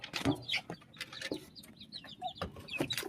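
Chickens bought at a market, four with swollen feet from having their legs tied, cluck and chirp in short bursts close by, a busy overlapping flock chatter with no one speaking.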